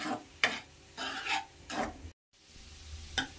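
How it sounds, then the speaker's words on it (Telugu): A spoon scrapes through flattened rice (poha) and jaggery in a pan on the flame, about five close, rhythmic stirring strokes with a faint sizzle and a brief silent gap. "ఇలా బెల్లము అటుకులకు బాగా పట్టాలంటే ఒక 5 మినిట్స్ లో ఫ్లేమ్లోనే ఇలా కలుపుతూనే ఉండాలి"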